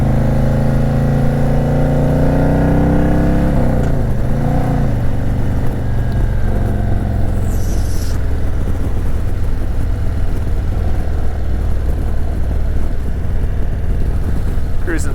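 Custom 2018 Harley-Davidson Road King Special cruising in third gear, a loud, steady low engine rumble with heavy wind noise throughout and a brief pitch shift early on.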